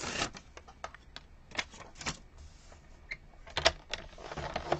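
Folds being scored into a strip of paper for a scrapbook album, a series of sharp taps and scratchy scoring strokes at irregular intervals, fairly close and quiet.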